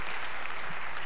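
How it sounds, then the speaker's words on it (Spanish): A church congregation applauding Jesus at a mariachi worship service, a short, dense wash of clapping heard alone. "Let's give Jesus a great round of applause."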